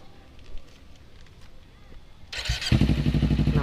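A Kawasaki Ninja 250 FI fitted with an RVR short exhaust starts up after quiet handling noises, catching abruptly and settling into a loud, close, pulsing idle.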